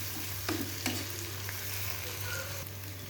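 Garlic paste fries in a pan with a continuous close sizzle, broken by a couple of scraping stirs early on and a soft, even crackle throughout.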